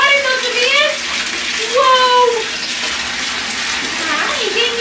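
Tap water pours steadily into a bathtub at home, a continuous close splashing rush that runs under a voice and a young child's babble throughout.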